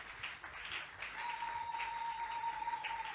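A church congregation at a French-language worship service applauds for God, with soft, distant clapping and a faint sustained tone behind it.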